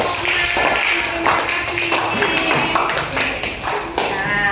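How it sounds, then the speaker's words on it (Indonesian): A group in a teachers' training session applauds a presenting group, with dense sustained clapping close by and voices speaking over it. "Ya, kita beri tepuk tangan untuk kelompoknya."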